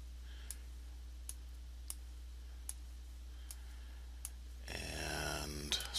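A mouse clicks while working in concept map software, a few sharp, quiet, evenly spaced clicks over a steady low hum, followed by a short burst of louder noise at the end.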